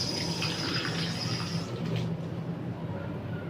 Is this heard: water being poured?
yes